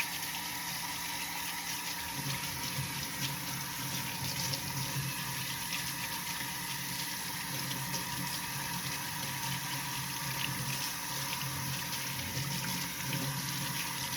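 Steady running tap water rinsing a utensil at a kitchen sink while cooking spaghetti, a continuous close splashing flow with no talk.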